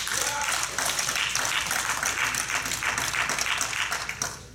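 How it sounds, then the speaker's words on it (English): A church congregation claps hands at a Sunday service, a dense, steady wash of applause filling the space from start to finish, with faint voices mixed underneath. "Clap your hands if you love Jesus."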